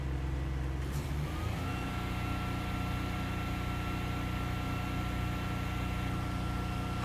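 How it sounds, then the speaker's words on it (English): Vanair i300 air compressor running with an engine-driven unit at idle, a steady broadband mechanical drone with low rumble and a faint tonal whine that shifts up as the compressor kicks in, continuous throughout. "we'll turn the air compressor on."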